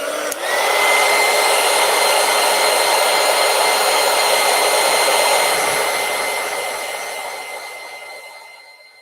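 A hair dryer blows steadily on an eclipse-themed collage, a close, loud continuous whir with a steady high hum that starts abruptly and fades slightly toward the end, with no voices.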